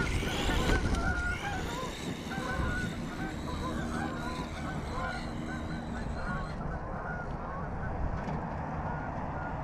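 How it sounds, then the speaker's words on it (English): Geese honking as a flock takes off from a hillside, a dense chorus of honks over steady outdoor background noise, moderately distant and continuing throughout. "I don't want to scare the geese, but oop, there goes the geese."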